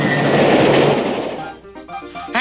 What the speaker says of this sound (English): I think there is a train approaching.